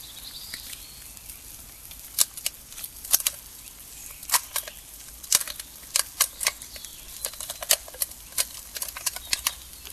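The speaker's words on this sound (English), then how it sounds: "imagine that you're cutting across the top of the can, sorry, across the middle of the can here, in a semicircle" A knife cutting across the middle of a metal can in a semicircle for a bushcraft project, making a run of sharp scraping clicks and ticks in an uneven rhythm, close and fairly quiet.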